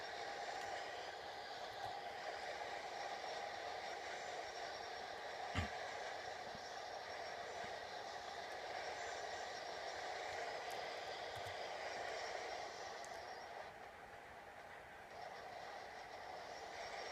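In the Trainz 2006 simulator, a Canadian Pacific SD40-2 diesel locomotive hauls a long double-stack container train, a faint, steady engine drone and rail rumble running throughout with a few light clicks.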